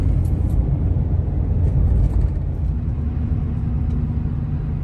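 Road traffic in Orlando heard from inside a moving vehicle, a continuous low rumble of engines and tires with no distinct events.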